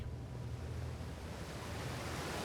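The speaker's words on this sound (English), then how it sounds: "The water's going the wrong way." Steady rushing surf of water waves in the space-exploration game Outer Wilds, a continuous broadband wash with soft low rumble, heard alone without talk.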